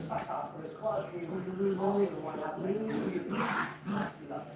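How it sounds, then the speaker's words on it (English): Several dogs whimper and yelp in the background of a home kitchen during a cooking livestream, the sounds irregular and moderately loud, mixed with people talking. "My dogs are busy in the background making noise."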